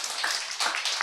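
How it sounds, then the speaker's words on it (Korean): During a Korean Sunday church service, the congregation claps in uneven bursts of brisk, crisp applause that swell and dip, heard at a moderate distance with no voices over it. "박수 좀 한번 해드리세요"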